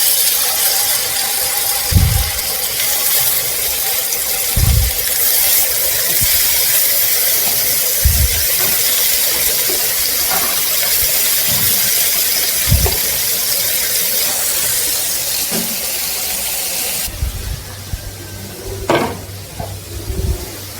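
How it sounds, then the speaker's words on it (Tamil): Fish pieces frying in a lightly oiled pan for a Tamil fish curry, a steady close sizzling hiss broken by occasional soft knocks and clatters of the pan. "இப்போ வந்து ஒவ்வொரு பீஸு மீன் எடுத்து இதில் அப்படியே பொரிச்சிட வேண்டியதான்."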